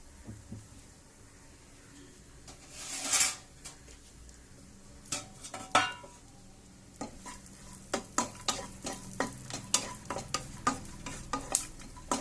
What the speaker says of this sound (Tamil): அந்த பொரியிற சத்தம் கேக்குது இல்லையா, அதுதான்.